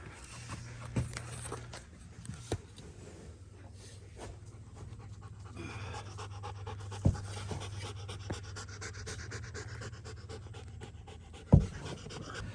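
Two German Shepherd dogs pant steadily and close by, a soft rapid breathing rhythm running throughout with a few faint footsteps and rustles, no talking.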